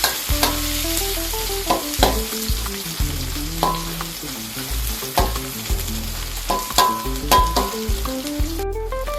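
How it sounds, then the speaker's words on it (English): Big onion being stir-fried in a pan, a steady sizzle under repeated scraping and clattering strokes of a spatula, close and fairly loud throughout, no voices. "stir fry the big onion"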